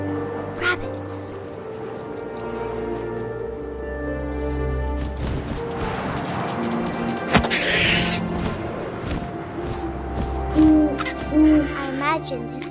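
An owl hoots in the video game What Remains of Edith Finch, a few low calls over soft wind and ambient tones, joined later by scattered thumps and rustles while a narrator speaks.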